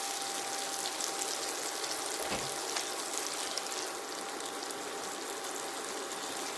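Onion, garlic and capsicum frying gently in oil over low heat, a soft continuous sizzle with a brief clink of a utensil partway through.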